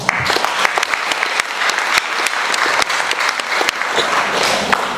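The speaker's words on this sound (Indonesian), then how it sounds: "tepuk tangan buat beliau" A crowd at a corporate gathering applauds warmly for several seconds, a steady, full wash of many hands clapping with scattered sharper claps.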